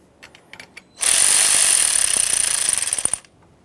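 A power tool whirs in a single loud burst of about two seconds, close up, after a few light clicks, as it snugs a battery hold-down nut on a 2009–2014 Nissan Maxima; no talking.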